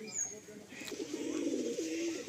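Pigeons in a loft coo softly, with a low, rolling call rising near the end over light background noise and faint distant chirps.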